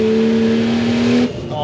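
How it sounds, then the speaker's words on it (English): A Ford Falcon XR6 Turbo with a screamer pipe exhaust accelerates hard, a loud, rising engine tone that holds for about a second before cutting off abruptly. "the screamer pipe just takes it from being fun to just being everyone within a 5-mile radius is gonna hear you coming"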